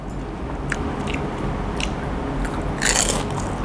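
Crunchy Korean fried chicken dipped in cheese fondue, bitten and chewed up close, with several crisp crunches rising through steady close chewing and no talk.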